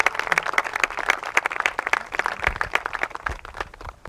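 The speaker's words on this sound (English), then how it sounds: "Let's give them a round of applause." Audience applause for veterans' families at a veterans event, a lively crowd clapping with crisp, distinct individual claps and some uneven swells, sustained across the moment.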